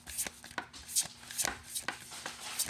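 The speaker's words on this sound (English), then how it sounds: "sometimes these specific cards, they shuffle so nice, and sometimes it takes a minute." Fairly new playing cards are shuffled in repeated quick riffles, each a crisp, flapping burst recurring every half second or so, close by.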